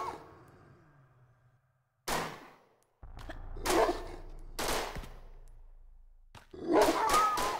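A dog in Tomb Raider I Remastered barks in loud, close, separate bursts, a single one first and then several more after pauses, with quiet stretches between.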